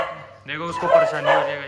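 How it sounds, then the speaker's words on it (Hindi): A dog barking outdoors in the rain, a close, loud short burst of barks and yelps heard over someone talking. "ये देखो ये कुत्ता भौंक रहा गाइस"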